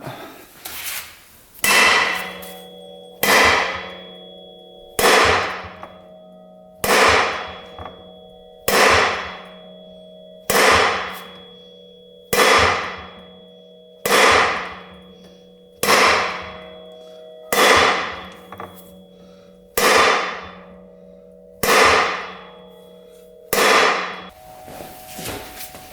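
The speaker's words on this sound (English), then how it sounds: "3-pound hammer coming out." A three-pound hammer strikes stubborn metal on a UTV with about fourteen evenly spaced, loud ringing clangs, each blow decaying before the next, with no voices.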